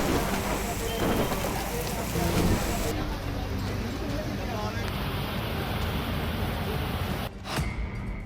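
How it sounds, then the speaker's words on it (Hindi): Heavy monsoon rain pours down continuously in a flooded region of Rajasthan, a loud dense hiss with no breaks. "26 जिलों में बारिश का कहर।"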